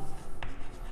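A single quick stroke or tap of a marker or chalk on a board during a class 9 geometry lesson on triangles. It sounds brief and close over steady room noise.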